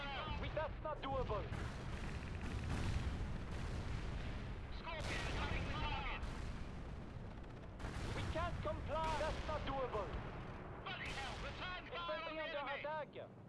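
Artillery strike in the real-time strategy game World in Conflict: Soviet Assault, continuous rumbling blasts and crackling gunfire in a dense battlefield din, with radio-style unit voices talking over it throughout.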